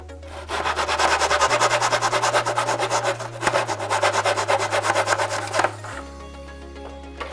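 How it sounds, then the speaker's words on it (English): A hand saw cuts a length of wooden molding in a miter box, making rapid, rhythmic rasping back-and-forth strokes that run steadily and loud for several seconds before stopping. "And then I'll cut it in my miter box."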